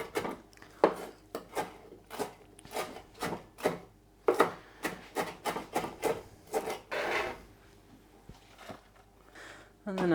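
A knife runs repeatedly through a tight bunch of herbs on a wooden cutting board, giving quick rhythmic chopping and scraping strokes, close and fairly loud, with brief rasping drags between cuts.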